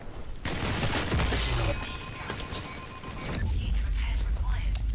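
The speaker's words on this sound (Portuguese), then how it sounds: "agora que eu entendi que essa arma aqui é uma assault, não é bem uma sniper" Gunfire from an assault rifle in the first-person shooter LEAP, a dense run of rapid shots and loud crashes that fills the whole stretch.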